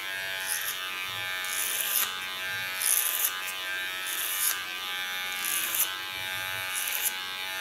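Electric hair clipper buzzing steadily through short hair at close range, with brief louder passes as the blades bite in, and no talking.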